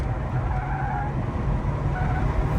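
A Lexus LS400 sedan pushed hard into a corner on a race track, heard from inside as a loud, steady low engine drone with tire and road rumble and no speech.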